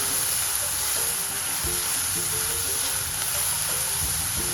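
Chopped onions cook with salt in a pan, giving a steady close sizzle and hiss with faint stirring scrapes throughout.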